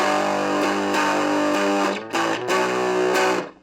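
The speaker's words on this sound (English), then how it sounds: "It's starting to get that distortion sound." Electric guitar through an amplifier with the gain turned all the way up gives thick, fuzzy distortion. Sustained chords ring out, then several strums are cut short with brief choked gaps. Loud and close, with no voices.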